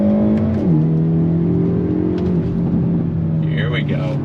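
A 2022 Hyundai Elantra N engine pulls hard in first gear toward redline, its droning tone loud and close, with a pitch shift around a gear change and continuous road noise beneath.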